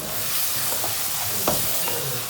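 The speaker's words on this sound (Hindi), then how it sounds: "मिक्स करूँगी अच्छी तरह।" A green onion and egg mixture with tomatoes and lemon juice sizzles in a pan while a utensil stirs it, with a steady frying hiss broken by a few scraping strokes, close and alone.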